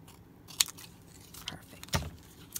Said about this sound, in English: My longer scissors because it's a lot easier that way.